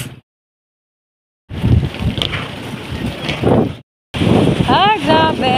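Gusty typhoon wind buffets the microphone in loud low rumbling bursts, broken by brief silent gaps.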